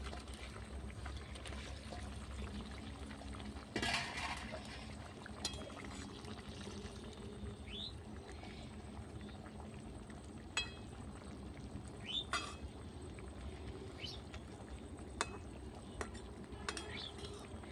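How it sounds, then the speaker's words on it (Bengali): Fish curry of fried fish simmering in a pot over a clay wood-fired stove, a steady low bubbling hiss running throughout with a few faint clinks and knocks. "ঝোলটা আমার ফুটে গেছে। সব মাছগুলো, ভেজে রাখা মাছগুলো দিয়ে দেবো।"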